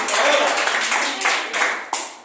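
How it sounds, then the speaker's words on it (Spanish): A church congregation claps together during a Spanish-language evangelical service, a loud sustained burst of hand-clapping that swells and dips in waves, with a few sharper accents near the end. "Regalen un aplauso para el Señor"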